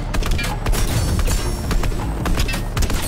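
Fortnite gunfire, a dense string of loud shots and thuds that runs without a break, with little talk.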